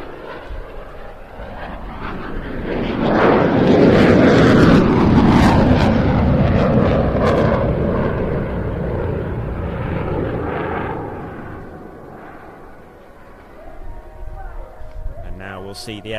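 A Eurofighter Typhoon jet fighter flying aileron rolls at a seaside air festival: a loud jet roar swells as it passes, then fades into a distant rumble, with an announcer's commentary heard over it.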